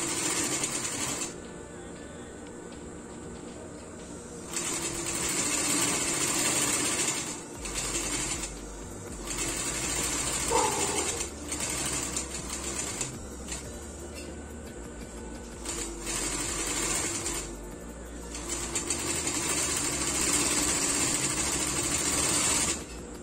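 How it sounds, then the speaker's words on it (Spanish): An industrial sewing machine stitching women's clog uppers runs in steady buzzing stretches of several seconds, stopping and starting repeatedly with brief pauses, close and continuous in a quiet workshop. "una vez que terminamos de coser aquí, lo cortamos, apagamos la máquina"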